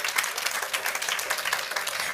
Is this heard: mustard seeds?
no